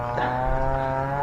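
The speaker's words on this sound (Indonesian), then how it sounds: "Ada suara mesin memotong kayu." A chainsaw cuts wood among clove trees on a green hillside, its engine holding a steady droning buzz at moderate distance throughout.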